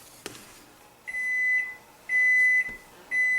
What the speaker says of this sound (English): that's our 2-minute timer